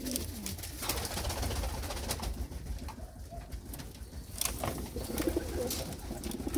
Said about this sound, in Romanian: păsări de la Evan